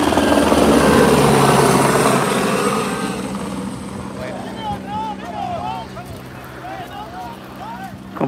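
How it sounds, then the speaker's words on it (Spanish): A helicopter flies overhead in Quilpué, its rotor thudding loud at first and then fading into the distance, while people talk nearby and birds chirp in the background. "Ahí viene el helicóptero otra vez"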